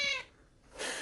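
A cat gives two short meows, close to the microphone, separated by a brief quiet pause; the first meow is slightly longer and more tonal.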